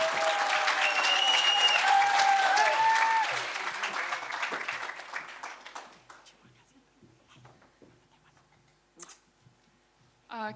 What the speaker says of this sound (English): Give us a big round of applause for our final speaker tonight